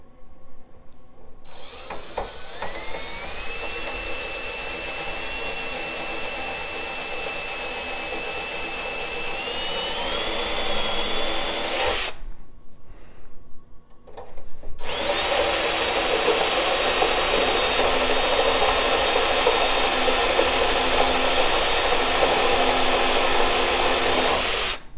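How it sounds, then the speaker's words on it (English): A power drill bores a couple of holes through a part that is too tight, with two long, steady whining runs separated by a brief pause, loud and close with no talk. "So I think I'm just going to drill a couple holes here."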